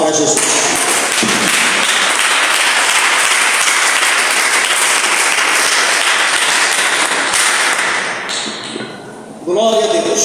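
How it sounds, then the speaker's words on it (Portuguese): A church congregation claps for Jesus during a service, loud sustained applause filling the room for about eight seconds before thinning out, with voices rising as it ends. "Desocupe tuas mãos e dê uma salva de palmas para Jesus."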